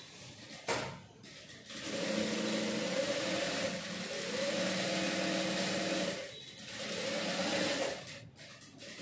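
An electric sewing machine stitches along a fabric edge during a tailoring lesson, running in steady buzzing bursts with short pauses between them. The sound is close and fairly quiet, with no talking.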